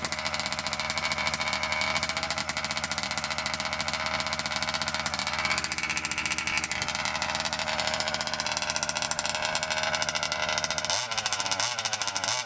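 A small high-revving nitro engine on a Kraken Vekta 5 RC car idles slightly high, continuously with a buzzy, rattling drone, loud and close, briefly dipping near the end.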